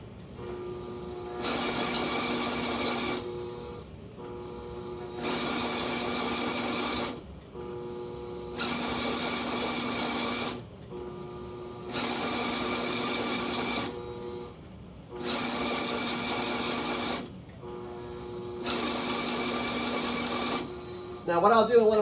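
A CueFeed feeder and conveyor attachment runs in six even bursts of a few seconds each, a steady mechanical whir with short quiet gaps between batches, close and moderately loud, with no talk.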